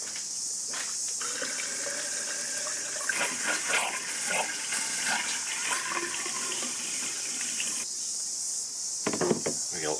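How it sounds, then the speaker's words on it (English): Water runs from a tap in a home workshop sink while bike fork parts are rinsed out, a steady hiss with light clattering and splashing throughout. "It helps to turn the tap on."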